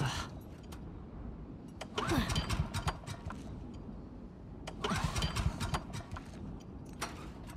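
A generator engine in The Last of Us Part II cranks and sputters twice in rough, mid-pitched bursts, close by, over a low rumbling background.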